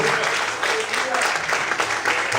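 Church congregation applauding, a dense steady wash of clapping filling the space throughout, loud and continuous with no pauses.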